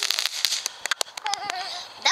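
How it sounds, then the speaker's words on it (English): Firework going off outdoors: a rapid run of sharp crackling pops and bangs with a brief whistling tone, close by, mixed with people cheering and shouting. "That was a nice firework, Steven."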